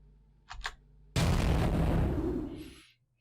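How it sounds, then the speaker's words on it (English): A rover's rocket array in Scavenger SV-4 fires at short range on a ship: two quick pops, then a loud sustained roaring blast that rumbles and slowly fades, with no talk. "Let me turn on the rocket array."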